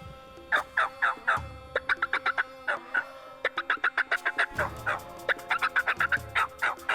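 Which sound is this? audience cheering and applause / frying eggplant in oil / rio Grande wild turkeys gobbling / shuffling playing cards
rio Grande wild turkeys gobbling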